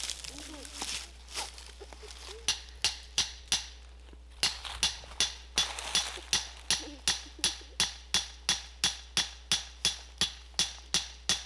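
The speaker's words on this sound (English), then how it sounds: "I need a bigger hammer." A hammer strikes repeatedly while a coyote trap is set outdoors, starting with scattered blows and settling into a steady run of about twenty sharp, evenly spaced hits close by, with a person talking in between.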